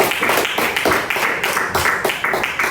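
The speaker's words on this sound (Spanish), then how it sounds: "Dele un aplauso" A church congregation applauds during a Spanish-language sermon, a loud, close burst of many hands clapping in an uneven rhythm that carries across the whole stretch without a break.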